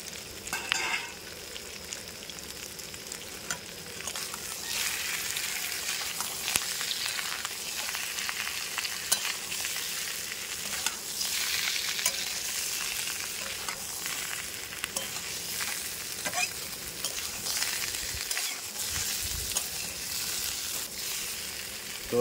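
Bhaja pithe with green chilli and a little salt frying in a pan, a steady dense sizzle with light stirring that continues unbroken throughout, close and with no voices.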